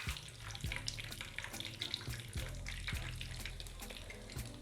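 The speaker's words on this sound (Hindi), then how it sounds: "अब इनको फ्राई होने देते हैं।" Chicken shami kebabs fry in a pan with a steady close hiss and sizzle, broken by occasional soft knocks and clatters.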